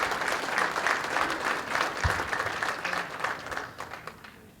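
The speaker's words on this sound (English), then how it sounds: "Round of applause for you and all you do for us." Audience applause fills a room at a township's annual address, dense steady clapping that fades toward the end, with a few faint voices underneath.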